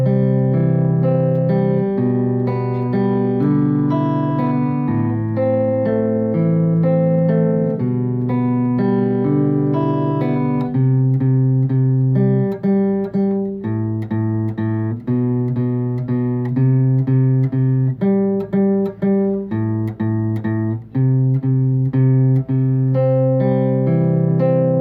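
Guitar plays a piece in 6/8 time, a clear steady picked melody with sustained notes, played alone and evenly throughout.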